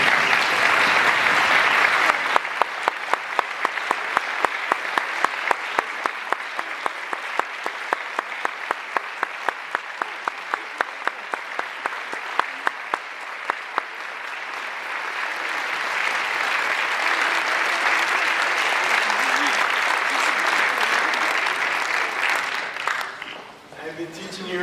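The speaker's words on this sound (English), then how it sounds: "if all the student performers could please stand so they can get another round of applause" Sustained applause from a school audience for student performers standing at an evening history program, with some clearly separate sharp claps early on, then merging into a steady roar that fades out near the end.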